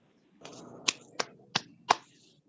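Meeting attendees give a short burst of clapping: a soft patter followed by four sharp, distinct claps spaced about a third of a second apart, close and fairly quiet.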